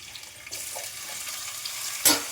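Chopped onion dropped into hot oil for a home chicken curry, giving a faint steady sizzle with a sharper splash near the end.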